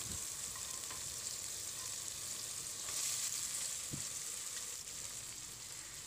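Fragrant reddish spice paste for Javanese sayur lodeh with young jackfruit sizzles quietly as it is moved into a pot, a soft steady frying hiss with a couple of faint clinks and scrapes, no talking.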